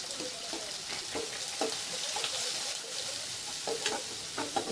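Onion, curry leaves and green chili fry in a pan, a steady near sizzle broken by regular stirring scrapes, with no voices.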